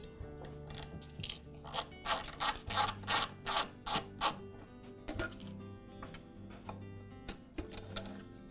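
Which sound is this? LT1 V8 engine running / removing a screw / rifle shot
removing a screw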